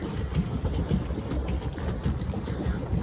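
A pedal boat moving across a lake, with a soft continuous water wash and low churning under steady wind noise on the microphone.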